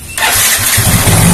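A Yamaha Mio J scooter with a faulty, stumbling engine is started, a sharp cranking burst that catches into a loud, close, uneven idle with pulsing low throbs.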